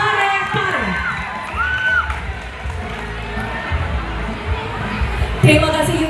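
A crowd at a junior high school marching competition in Parepare for Indonesia's Independence Day cheers and whoops, with children shouting amid a dense, lively roar that swells near the end.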